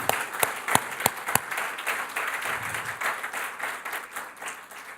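A church congregation applauds. A few sharp, separate claps ring out near the start, then they blur into a softer, continuous patter that slowly fades.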